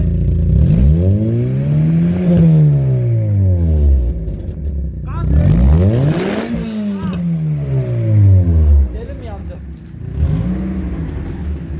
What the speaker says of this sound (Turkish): Egzozu patlak arabayı tespitini bu şekilde yapıyoruz.